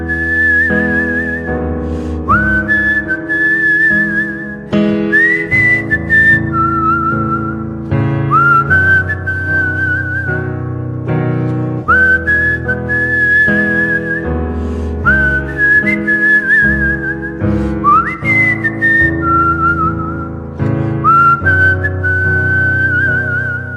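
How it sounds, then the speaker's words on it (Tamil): A singer whistles a film song melody live on stage, clear, loud and close, with sustained pitched phrases and slides in a steady rhythm over musical accompaniment. "just the whistle part for you"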